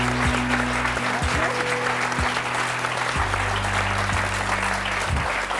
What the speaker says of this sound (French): Je vous demande d'applaudir Agnès